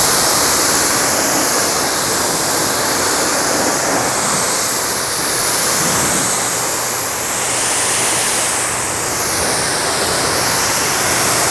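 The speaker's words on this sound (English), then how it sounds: "Now I'm gonna immediately go ahead and rinse it all off" Water sprays steadily over a car as it is rinsed off after a ceramic protection coating, making a loud, continuous rushing hiss with no voices.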